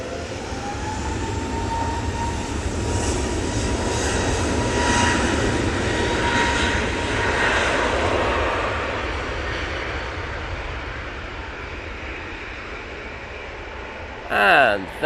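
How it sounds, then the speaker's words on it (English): An EasyJet Airbus A320neo jet takes off from Manchester Airport bound for Dalaman, its engine roar loud and broad, swelling then slowly fading, with a brief burst of talk right at the end. "I do have this A320neo now coming on. Off to Dalaman."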